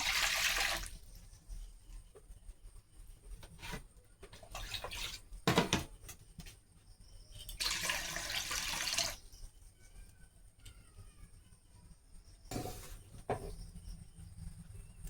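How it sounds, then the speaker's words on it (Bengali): Water is poured into a wok set on a stove, arriving in several separate splashing bursts with quieter gaps between them, close by and moderately loud. "কড়াইতে আমি এখন একটু জল দিয়ে দেবো"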